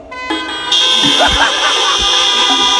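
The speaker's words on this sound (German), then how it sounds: "Jetzt hupen mal bitte alle, die ich heute erschreckt habe." Several car horns blare together at a drive-in cinema horror night, sustained and loud, with voices and street noise mixed underneath.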